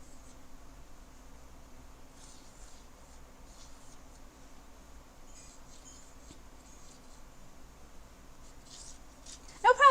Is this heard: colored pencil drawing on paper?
yes